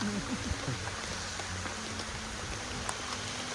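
Rain falls as a soft, steady hiss and patter, fairly quiet and continuous with no talking.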